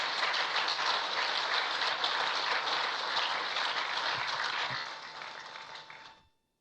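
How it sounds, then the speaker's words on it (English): Dense, sustained audience applause fills the hall after a young speaker's powerful performance, holding steady before thinning and fading out near the end. "Please, let's give her another round of applause."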